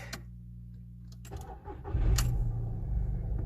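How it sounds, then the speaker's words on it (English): A Volkswagen Polo with 162,000 km cranks briefly and catches, settling into a steady, close idle rumble with a light clink near the start. "car starts normally"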